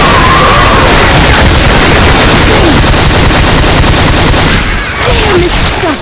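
Continuous, very loud automatic gunfire with incendiary ammo in Left 4 Dead, with dense rapid shots and booming impacts that hardly let up for six seconds.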